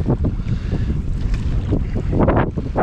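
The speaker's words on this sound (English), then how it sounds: "tons of boats are flying in and out of this channel" Motorboats running through a lake channel on the French River route, a steady loud rumble of engines and churning water mixed with wind buffeting the microphone, with swells of louder passes near the end.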